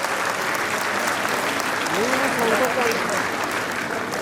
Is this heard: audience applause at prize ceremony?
yes